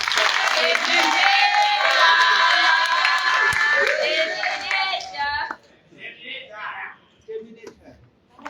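Applause and cheering from an audience at a sophomore orientation, loud and sustained for about five seconds with shouts mixed in, then breaking off into scattered voices and brief calls.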